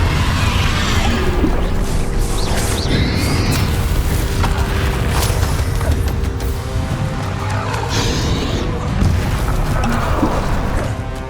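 Confringo spell explosions in the Hogwarts Legacy video game come as a dense, continuous roar of booming blasts and crashing impacts, loud and close, with no clear gaps throughout.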